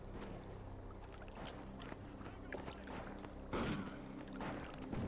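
A character wades and splashes through water in the video game Defiance, a continuous close sloshing and churning with louder surges of splashing near the end.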